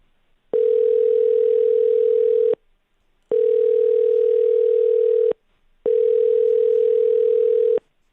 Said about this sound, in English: So let's dial that first one